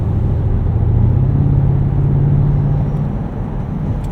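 A 2013 BMW X5 xDrive50i V8 hums steadily from inside the cabin while driving, a low continuous engine drone with road rumble that holds even, close and fairly loud throughout.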